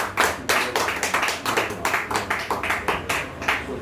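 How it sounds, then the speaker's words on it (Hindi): A church congregation claps together in rhythmic, forceful unison, a fast steady beat of sharp hand claps filling the room with no talk over it. "मान परमेश्वर के लिए हम जोरदार ताली बजाएंगे।"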